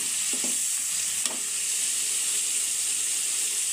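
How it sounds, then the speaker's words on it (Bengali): Small cut pieces of taki fish stir-fry in spiced oil for a mashkalai dal dish, a continuous close, loud sizzling hiss with a few brief spatula scrapes and clicks near the start. "এখন ছোট করে কাটা টাকি মাছগুলো দিয়ে দেব। এখন ভালোভাবে কষিয়ে নেব।"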